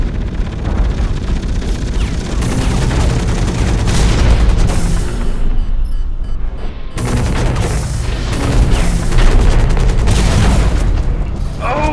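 A turret firing in the mech shooter Hawken, loud dense continuous gunfire and booming blasts that roll on for several seconds with a short lull midway, heavy and close.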